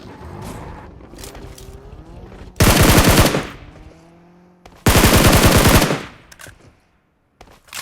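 Video game gunfire comes as two loud, close bursts of rapid automatic shots, each lasting about a second, separated by quieter stretches of engine-like hum and scattered clatter.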